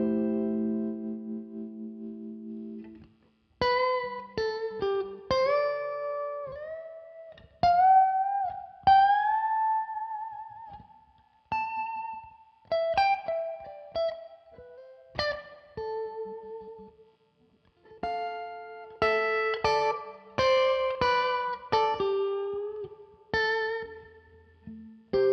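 An electric guitar played through a Neural DSP John Mayer amp plugin with a clean, bluesy tone: single notes and short phrases picked alone, with gaps of silence between bursts and gentle sustain on each note.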